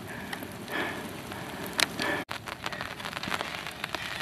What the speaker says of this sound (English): I knew it was going to be raining